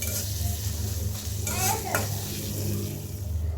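Dried fish (chapa shutki) going into a hot frying pan with kochur loti, a close continuous sizzle with stirring scrapes and a brief louder hiss midway.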